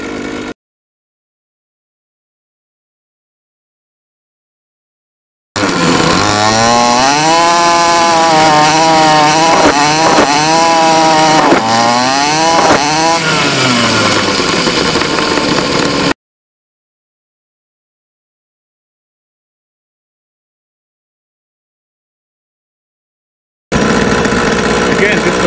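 An engine-powered launcher revs loudly and fires in full auto, a harsh continuous roar with rising and falling pitch sweeps, set between stretches of silence.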